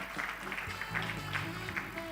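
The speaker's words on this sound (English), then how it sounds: "They deserve a better round of applause" Audience clapping at a hackathon event, a steady patter of many hands under an announcer's voice, moderately loud and continuous.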